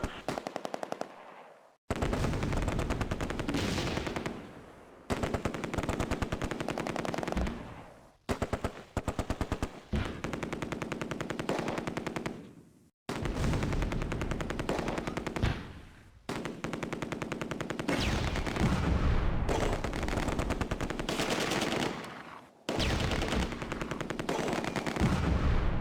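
Sustained machine-gun fire in the war video game Close Combat A Bridge Too Far, long dense bursts of rapid shots broken by brief silent gaps, loud and near.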